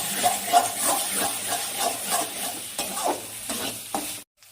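Spice paste with cashews and raisins being stir-fried for Bengali katla fish kalia, a steady close sizzle with repeated scraping stirs, stopping abruptly at the end.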